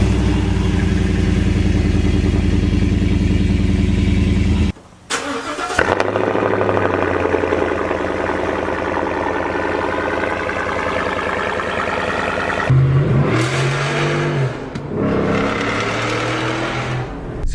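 Ford SVT Raptor pickup with a modified exhaust, engine revving loud and close with rising and falling tones, a sharp cutoff near five seconds, then more revs and throttle blips toward the end.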